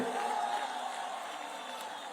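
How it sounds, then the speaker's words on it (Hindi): A large crowd at a political rally in Ujiyarpur for the Union Home Minister, cheering as a steady, somewhat distant roar of many voices. "जोर से ताली बजाओ नित्यानंद के लिए।"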